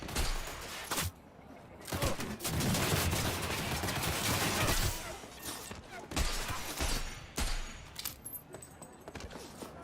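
Rapid gunfire aimed at police in the video game Cyberpunk comes in loud, sustained bursts with sharp individual cracks between them. The shooting is intense and layered, with shouting voices mixed into the chaos.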